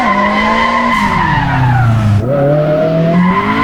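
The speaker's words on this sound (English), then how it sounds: "we're currently riding in Shingo Shoji's EG6 Honda Civic" A Honda Civic EG6 in the racing game Assetto Corsa howls through a loud, sustained tire squeal over the engine note, pitch sliding down then rising again as the car drifts through a corner.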